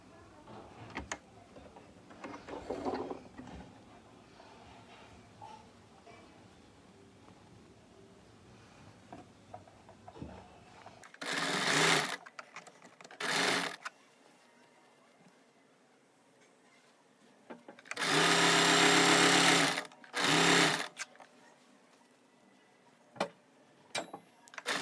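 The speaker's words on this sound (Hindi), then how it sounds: "अब हम इस तरह से इस पट्टी को इसके अंदर डालते हुए इसके ऊपर टॉप स्टिच लगा लेंगे।" A sewing machine top-stitches a strip onto palazzo pants in short bursts: two quick runs, a pause, then a longer run and a final short burst. The machine sounds close and clear over a quiet room.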